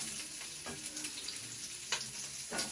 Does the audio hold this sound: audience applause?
no